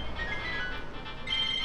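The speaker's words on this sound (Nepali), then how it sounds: "फोन आ रहा मेरे को" A phone ringtone plays during a tea break on a road trip in Solan, with a steady electronic melody looping under faint background noise.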